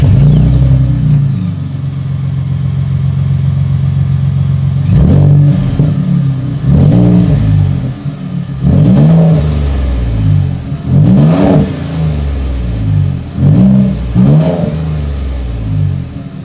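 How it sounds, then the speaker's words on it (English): A 2020 Ford Raptor's exhaust is revved repeatedly while standing, giving a series of loud, close throttle blips that each surge and fall back to a rumbling idle, roughly every one to two seconds. "As always, here is that exhaust clip."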